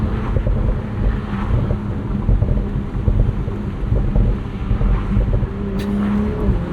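A 2023 BMW Z4 M40i's exhaust burbles and rumbles with the throttle feathered on the overrun. The deep, loud, uneven rumble is close by, mixed with wind buffeting, and no one speaks.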